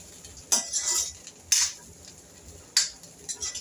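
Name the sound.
stirring fried cashews and almonds into coconut rice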